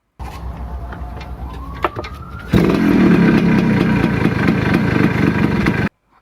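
A Suzuki TS125 two-stroke trail motorcycle engine idles with a rough, buzzy putter, then jumps to a louder, sustained rev midway before cutting off abruptly.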